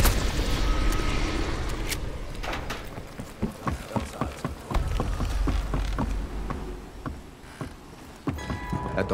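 Firefight in a Call of Duty Cold War campaign mission: scattered gunshots and bursts of automatic fire crackle near and far over a rumbling background, irregular sharp cracks repeating throughout.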